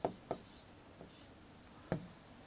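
Chalk or marker writing on a board during a chemistry class, with a few short separate strokes and scratches that are faint and close.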